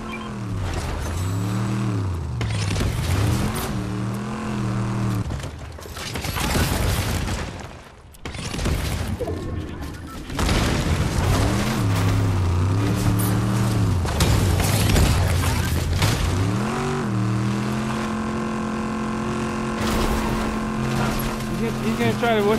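Car driving in Fortnite, engine tones rising and falling as it accelerates, with booming hits and gameplay sounds throughout, loud, with a voice talking over parts of it.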